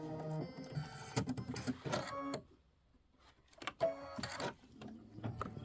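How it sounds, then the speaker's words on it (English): Embroidery machine stitching out a mug rug design in brunette dark brown thread, a busy mechanical whirring and clatter that pauses briefly midway before resuming, close by with no talk. "And this is 5 minutes of stitching. Just let it stitch."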